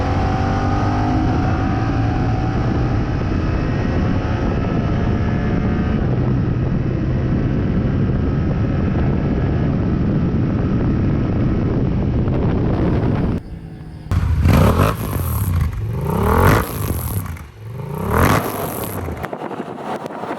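A 2022 Yamaha R7 parallel-twin motorcycle engine drones steadily, then blips its revs in quick rising bursts, loud and close, with wind buffeting the microphone.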